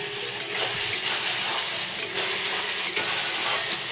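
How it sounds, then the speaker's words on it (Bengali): Onions fry with salt in a pan, a continuous close sizzle broken by a few scraping stirs of a spoon against the metal, with no voices. "পেঁয়াজ হালকা ভাজাই হয়ে গেছে, একটু নুন দিয়ে দেবো"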